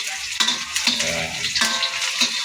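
Onions sautéing in a pan for tofu sisig, a close, continuous sizzle broken by repeated scraping stirs of a utensil against the pan.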